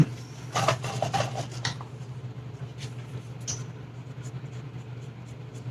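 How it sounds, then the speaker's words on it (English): Abrasive sanding on the underside of a 1/5 scale model figure of Judy, a few quick rasping strokes up front followed by lighter, sporadic rubbing over a low steady hum. "I can sand that smooth a little bit"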